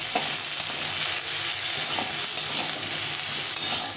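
Jackfruit seeds are frying with Malabar spinach and turmeric, cumin and chili powders in a pan, giving a steady close sizzle with repeated scraping stir strokes throughout.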